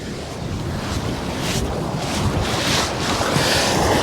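Ocean waves wash and break at a windy Australian beach in early November, a steady roar of surf with rising swells, while strong wind buffets the microphone throughout.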